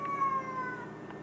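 A cat gives a single short meow, close and fairly clear, lasting about a second, with no voices over it.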